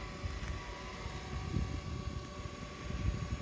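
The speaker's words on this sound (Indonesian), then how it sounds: "Coba aku nyalakan drone-nya ya." A JJRC X12 Aurora quadcopter drone hums steadily nearby in strong wind, its motor drone constant throughout with wind rumbling underneath.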